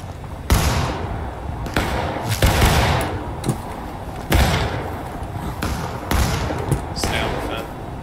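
Gunfire crackles across the Dunker Church map in Battlefield, with a series of heavy shots at irregular intervals, some near and booming, others duller, under ongoing talk.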